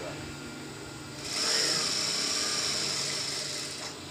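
A sewing machine runs along the hem of palazzo pants, its whirring motor rising after a quiet start and holding steady for a few seconds before easing off.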